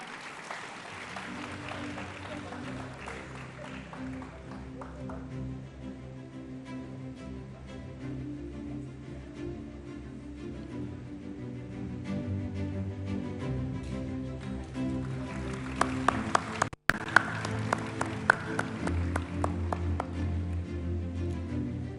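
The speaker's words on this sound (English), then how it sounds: "Round of applause, ladies and gentlemen." An audience at a film festival opening ceremony claps steadily for about twenty seconds. The applause is moderately loud and diffuse, with a few sharper claps standing out near the end over faint background music.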